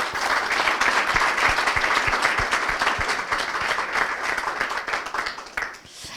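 Audience applause for a singer, a dense steady wash of many hands clapping throughout, fairly loud and close, easing slightly near the end.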